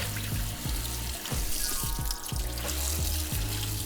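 Cut-up tripe is rinsed under a running kitchen tap: a loud, close, continuous rush of water with rhythmic splashing and low knocks as the pieces are moved about.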